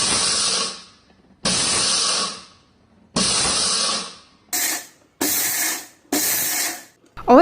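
A kitchen mixer grinder, dry-grinding whole moong dal to strip the husks, is pulsed in short bursts: three longer whirring runs, then three quicker ones, each cut off by brief silences.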